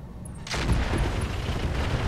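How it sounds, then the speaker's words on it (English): A salvo of rockets fired in Roguetech, the BattleTech mod, bursts in suddenly as a loud, sustained roaring rush of overlapping launches and blasts that fills the remaining seconds. "Here comes the rockets."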